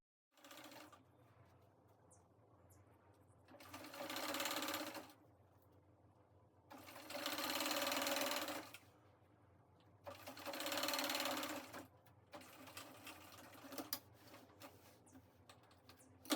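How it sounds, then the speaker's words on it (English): A sewing machine runs in three loud bursts of rapid stitching, separated by quieter pauses with soft handling noises. "this is me on the sewing machine trying to stitch up the neck area of the front"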